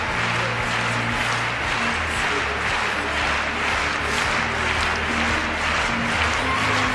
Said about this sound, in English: The audience starting to clap now, wanting the judges to get on with it and make a decision.